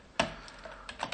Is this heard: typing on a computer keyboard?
yes